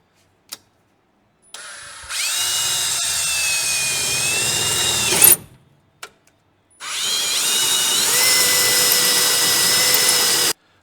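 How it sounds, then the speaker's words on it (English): A power tool cutter grinds through aluminum on a carburetor in two loud, sustained bursts of high whining, the second longer, with a brief gap and clicks between them. "my cutter is getting clogged up with aluminum"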